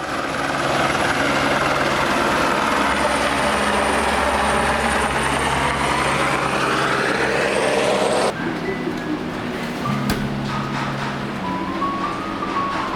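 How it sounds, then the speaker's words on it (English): A helicopter flying over the high Tibetan landscape near Timure, its steady rotor and engine drone loud and continuous, holding strong before dropping back a little and carrying on more distant. "we can actually see a helicopter"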